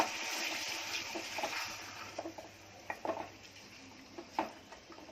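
Roasted eggplant bharta is mixed in a dish, producing soft, faint scraping and occasional light clinks of a utensil against the bowl, irregular and close.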